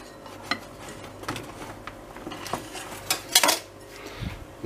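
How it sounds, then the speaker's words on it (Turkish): Metal tongs clink and scrape against a dish while stuffed dough rings for Ramadan ring fritters are lifted from an egg coating, giving a series of light, irregular taps and clatters up close with no talking. "şimdi bir maşa yardımıyla bu yaptığımız yumurtalı suyu buluyoruz"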